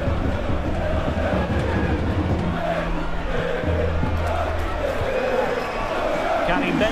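A football crowd at a CFR Cluj versus Rapid București match roars and chants steadily in a large stadium, a constant dense wash of cheering, with a commentator speaking over it.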